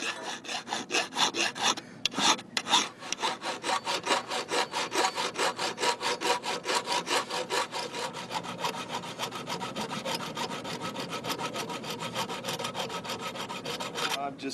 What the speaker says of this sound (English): Filing off the outer lip that I've mushroomed over.